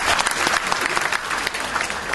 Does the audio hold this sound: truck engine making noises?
no